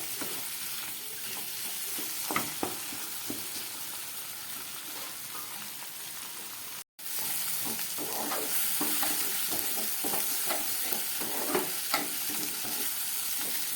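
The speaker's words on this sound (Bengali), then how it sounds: "আর সমস্ত মশলা দিয়ে ভালো করে কষিয়ে নিচ্ছি" Tomato, potato and spices frying in oil in a pan over medium heat, a continuous close sizzle broken by repeated scraping stirring strokes, with one brief cut to silence midway.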